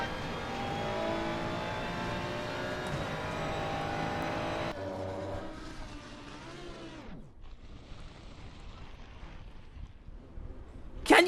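Race car engine in Assetto Corsa Competizione climbing a hill at the Nürburgring, a sustained high revving roar that drops off midway, then quieter engine and tyre sounds with a sharp burst at the end.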